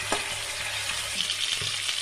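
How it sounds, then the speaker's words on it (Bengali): Chicken pieces frying in ghee for a chicken korma make a steady, close sizzle with light stirring scrapes throughout and no talk. "এবার চিকেনটা ভেজে নিচ্ছি।"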